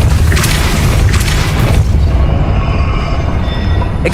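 A Depulso force spell cast in the game Hogwarts Legacy, a series of loud low booms and rumbling whooshes over about four seconds that settle into a softer ringing tail, with no voices.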